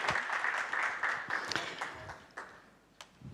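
Audience applause at a talk on brand planning: dense clapping that holds for about two seconds, then thins into scattered individual claps that trail off.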